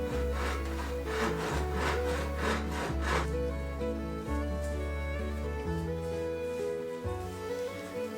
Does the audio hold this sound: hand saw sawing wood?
yes